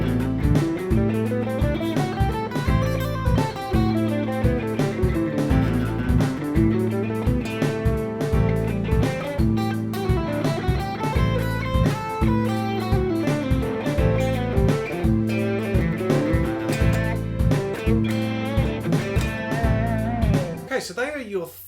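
A Dorian mode melody plays over a sustained minor 7th chord in a jazz scale lesson, with steady repeated accompaniment and a stepwise line weaving above it.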